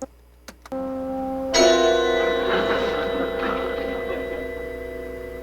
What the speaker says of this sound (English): So this is called Zap Chime.